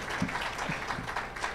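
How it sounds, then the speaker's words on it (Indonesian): Applause at a bank merger ceremony honoring commercial bank guests, a short burst of soft, fairly distant clapping with low voices murmuring underneath. "Kita tepuk tangan untuk bank umum yang hadir"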